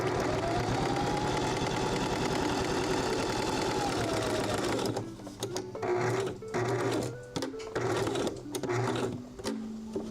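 A sewing machine runs in a steady, fast continuous stitching whir for about five seconds, then breaks into short stop-start bursts of stitching with small pauses and clicks as the fabric is shifted.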